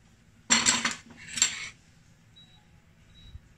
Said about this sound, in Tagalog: Sukin ko na. Yan. Malambot na, natutusok na ng tinidor.